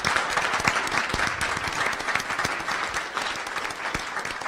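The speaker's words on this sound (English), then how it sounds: "if you guys could stand up again for a round of applause because you are amazing" Applause from an audience standing at a school board of education meeting, dense steady clapping throughout, close and fairly loud, with no one speaking over it.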